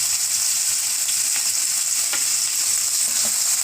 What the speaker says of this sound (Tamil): சூடானதும் இந்த பொடிசாக கட் பண்ணியிருக்க சிக்கனை சேர்த்துருங்க